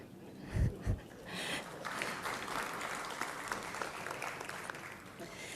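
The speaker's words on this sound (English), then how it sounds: "Let us all give a warm round of applause" Faint, distant audience applause at the 19th Dr. D. R. Gadgil Memorial Lecture as dignitaries are welcomed to the dais, a soft steady clatter after a couple of brief low thumps.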